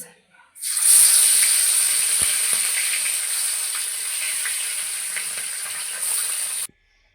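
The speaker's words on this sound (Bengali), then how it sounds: "দেখুন কড়াইয়ে তেল দিয়ে দিয়েছি, তেল গরম হয়ে গেছে, দিয়ে দেব মাছ।" Bata fish hits hot oil in a wok, setting off a loud, sustained frying hiss that starts abruptly and holds steady close up for several seconds before cutting off, with no talk.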